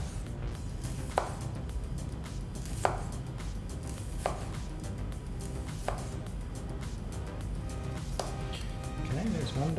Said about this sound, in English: Now what I'm going to do, just sort of slice them really thinly,